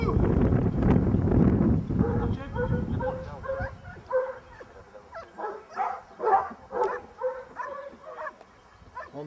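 Police dog on a standoff training exercise barks and yips in short, irregular bursts, loud at first over heavy background activity and talk, then clearer repeated barks with brief gaps.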